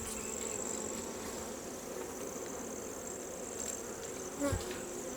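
Honeybees hum continuously around an open beehive, a close, even buzzing drone that holds steady throughout, with one brief soft bump near the end.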